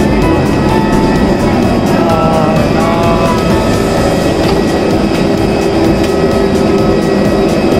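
Steady, loud engine roar of an airplane while passengers board the flight, a continuous droning hum with no clear talk.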